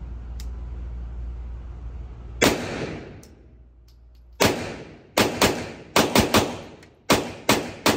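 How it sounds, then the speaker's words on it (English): Gunshots from a DS 1911 pistol at an outdoor shooting range: loud sharp reports, one alone, then a rapid string of closely spaced shots, each with a short echoing tail. "shooting 10 rounds"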